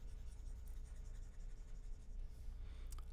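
Pen or pencil scratching steadily on paper while jotting down chord numbers, a close, continuous scribbling with no talk over it.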